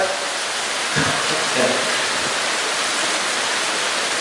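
Steady, dense rain falls throughout, a loud broadband hiss with no gaps, close and constant.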